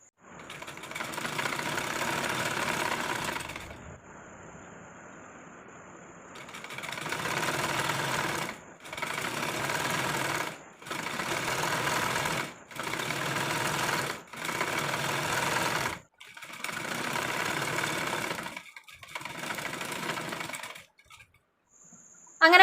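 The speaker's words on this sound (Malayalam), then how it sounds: "അപ്പോൾ നമുക്കിനി ഇതങ്ങ് സ്റ്റിച്ച് ചെയ്തെടുക്കാം." An electric sewing machine stitches the panels of a six-panel Anarkali kurti. It runs in about eight loud, steady whirring bursts with short pauses between them. There is no talking.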